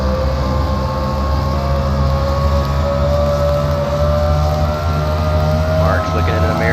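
The No. 97 race truck runs in a 2008 truck series race at Canadian Tire, heard from on board as a loud, steady engine drone that stays constant throughout, with faint commentary underneath.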